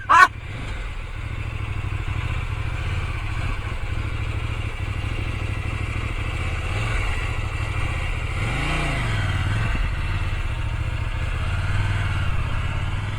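A CFMOTO 800MT X motorcycle drones along at a steady engine note, with one swell of revving midway, heard from the rider's position with wind rush and no talk.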